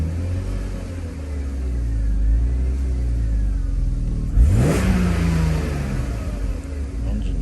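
A car engine running rough, its low rumble steady and close throughout, with a brief revving surge partway through.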